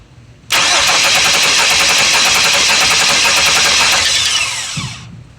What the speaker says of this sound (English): Let's go ahead and crank the engine over and look at this.